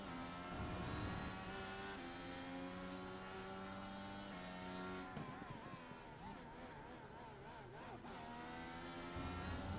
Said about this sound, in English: why were you revving the engine through there